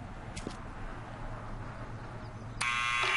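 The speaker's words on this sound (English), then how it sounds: "Okay, then we need to check the buzzer." In the Back to the Future video game, a door buzzer sounds abruptly near the end, a loud sustained electronic buzz cutting in after a quiet stretch with a couple of brief clicks.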